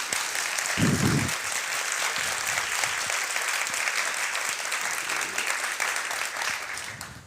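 An audience at an author event welcoming novelist Jesmyn Ward breaks into sustained, even applause from many hands, filling the room without pause.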